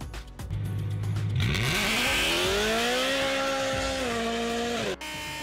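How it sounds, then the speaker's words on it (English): A car with a loud aftermarket exhaust revs hard. After a brief idle, the engine pitch climbs and holds in a rough, droning roar, then cuts sharply near the end. "Loud exhausts."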